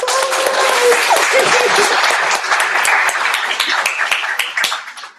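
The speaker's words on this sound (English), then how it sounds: "Applause." A crowd applauds loudly at the opening of the 51st annual Nene Award ceremony, a thick, sustained burst of clapping with some cheering voices, thinning into scattered claps toward the end.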